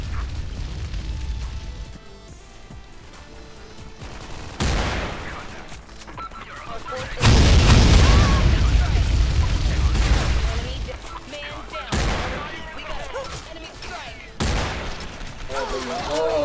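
Gunfire in the online shooter Special Force 2, loud bursts and volleys of automatic rifle fire with booms, coming in separate bursts under excited talking.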